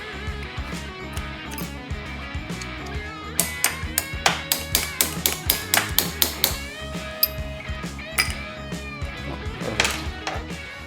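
Rapid series of sharp metallic taps driving small pins out of a Briggs & Stratton Vanguard V-twin crankcase, a dozen or so close hammer strikes in quick rhythm over a low background hum.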